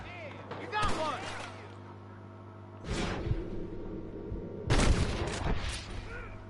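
Gunfire in the Red Dead Redemption video game arrives in a few bursts of shots, fairly faint and spread apart, with voices talking over the game sound between them.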